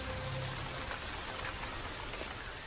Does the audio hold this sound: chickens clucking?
no